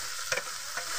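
Tomatoes added to a frying pan for pasta, a steady close sizzle with a couple of brief scraping stirs.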